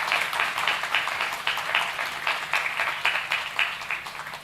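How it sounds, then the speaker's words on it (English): An audience claps for the Governor of Tamil Nadu at a regional Abilympics conference at IIT Madras, giving a steady, moderately loud patter of many hands that continues evenly throughout. "I think we can again clap for Honorable Governor of Tamil Nadu"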